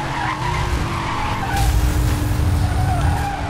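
A Bugatti races and skids in Need for Speed Hot Pursuit, its engine roaring under long, loud tire squeals that swell midway, with a game-engine drone throughout.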